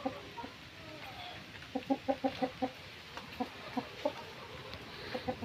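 A Rhode Island Red hen clucks while laying eggs in a netted backyard coop, giving short repeated bursts of nasal clucks in uneven clusters, moderately close over a quiet outdoor background.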